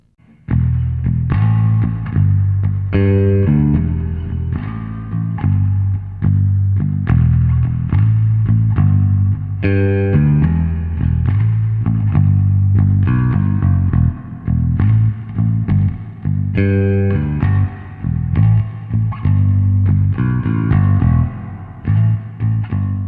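Bass guitar played through an Electro-Harmonix Cathedral reverb pedal, notes ringing and washing into each other continuously, loud and sustained with no talking.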